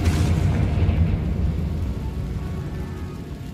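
A Confringo explosion spell in the video game Hogwarts Legacy bursts with a loud, deep boom at the start, then rolls into a rumbling low decay that gradually fades, no voices over it.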